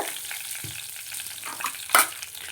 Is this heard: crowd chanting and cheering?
no